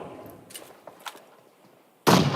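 A grenade in the PUBG Mobile battle royale game bursts into a single loud, sharp explosion near the end, following a stretch of quiet ambient game noise with faint distant pops.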